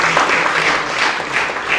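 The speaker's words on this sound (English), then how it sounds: "let's give a round of applause to Milburn Tennis" Applause from an audience for a school tennis team at a county freeholders' presentation, a steady, dense wash of many hands clapping throughout, fairly loud and close with no talk over it.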